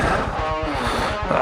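A loud, close motorcycle engine roar with a rhythmic low throb and a rushing, splashing wash as it rides through a puddle, steady throughout the short moment.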